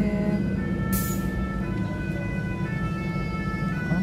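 A fire engine siren from the Saint-Denis fire brigade on Réunion Island wails in steady tones as it passes along a busy road, blended with constant traffic noise and no talk.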